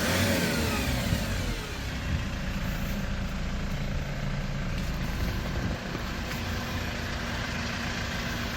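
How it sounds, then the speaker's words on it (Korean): The engine of a 2012 Hyundai Porter 2 Super Cab truck with a manual gearbox runs steadily nearby, a constant mid-pitched diesel drone with a faint hum on top and no voices. "엔진 소리는 정말 좋습니다"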